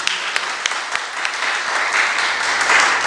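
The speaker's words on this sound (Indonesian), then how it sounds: "Saya senang jadi berikan tepuk tangan dulu bagi Allah kita" A church congregation gives a brief round of applause. The clapping is dense and lively, with a few sharp claps standing out near the start before it settles into a steady wash.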